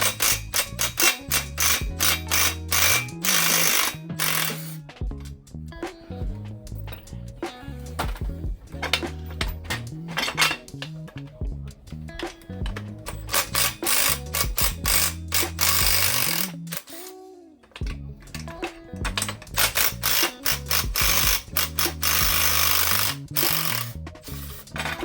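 Power tools in a workshop, an impact driver among them, rattle in rapid bursts as 13 mm bolts come out of a Sea-Doo Spark jet pump. The loud, choppy hammering stops and starts, with a short pause in the middle.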